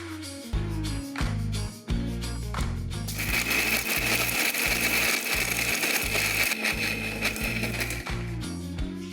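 Dried coconut (copra) powder being ground in a kitchen mixer grinder: a steady, loud whirring drone starts about a third of the way in and runs to the end beneath a strong rhythmic music track.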